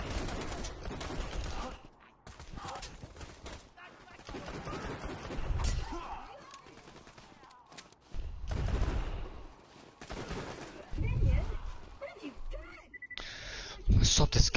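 Borderlands 2 gunfire crackles in dense rapid bursts across the stretch, loud and busy, mixed with game effects and a voice talking over it.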